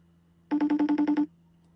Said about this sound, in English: I'm FaceTiming Mom.